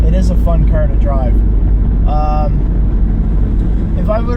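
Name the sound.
1987 Fiero car engine running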